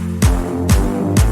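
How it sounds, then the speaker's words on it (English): Electronic clap hits layered into an electronic song, three sharp claps at an even pace over a sustained synth and bass bed, loud and close with nobody speaking. "So that's where I brought in more clap sounds."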